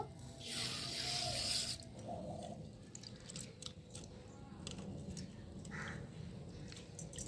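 Red lentils mixed with some mung dal being rinsed in a bowl of water: a loud splashing rush for the first couple of seconds, then softer sloshing and faint clicks of the grains being rubbed.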